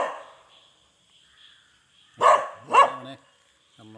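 A dog barks twice in quick succession, loud and close, followed by a third bark cut off at the end, with quiet background between.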